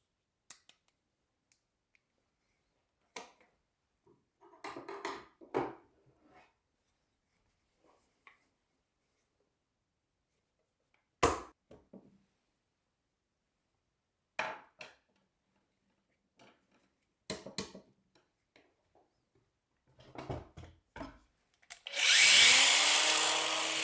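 A screwdriver or guitar pick pries at the case of a Tuya smart device, making sparse sharp plastic clicks, creaks and snaps spread out over a quiet background, followed by a loud sustained rushing noise at the very end.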